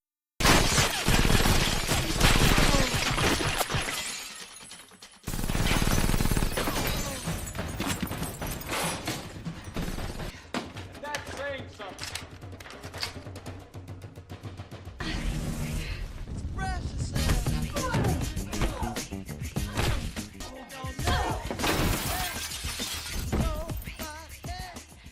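A fist fight scene from the film Mr. & Mrs. Smith: loud, dense crashes, shattering and heavy impacts pile up over a running music bed, with brief pauses and bursts of movement throughout.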